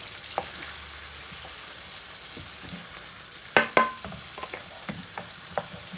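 Tinned butter beans are stirred gently through a British Indian restaurant-style masala sauce in a pan, with soft scraping strokes over a low simmering hiss and a couple of louder clanks midway.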